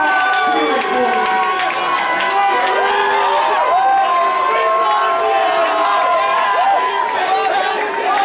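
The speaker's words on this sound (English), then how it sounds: "stop cheering for me" A crowd at a wrestling event in an athletic club cheers and shouts loudly, a dense continuous roar of many voices with no pause.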